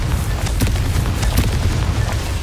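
Loud, heavy booming blasts from the Confringo explosion spell in Hogwarts Legacy, two sharper bursts standing out over a continuous low rumbling roar.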